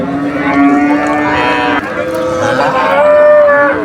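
Cattle at a cow market in Manikganj, Bangladesh, moo loudly and close, with long drawn-out lowing calls overlapping one another for the whole few seconds.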